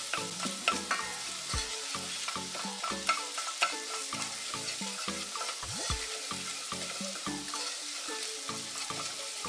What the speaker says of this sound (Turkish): Biber salçasını böyle iyice kavuruyorum.